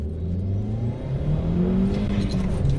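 An Audi TT pulls hard in first gear from about 10 toward 60 mph, its engine note climbing steadily in pitch and loudness with a turbo whir over the drone, close and continuous with no talking.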